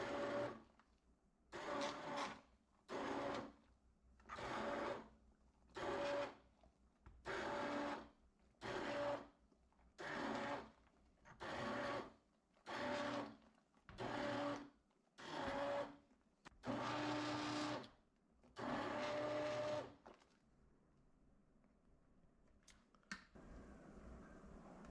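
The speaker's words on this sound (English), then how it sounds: "I blend with a stick blender." A stick blender purees broccoli and cheddar soup in short repeated bursts, about a dozen pulses with brief pauses between, ending in a longer run before stopping.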